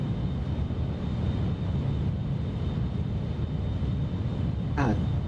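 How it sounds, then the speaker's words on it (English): Airplane engine in Microsoft Flight Simulator 2024 on Xbox, a steady broadband drone that holds loud and unchanging throughout, with a brief higher chirp near the end. "Airplane sounds great."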